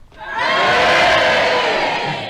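Studio audience of a radio panel game show cheering and booing together, a loud, dense crowd roar that swells quickly and holds steady for about two seconds.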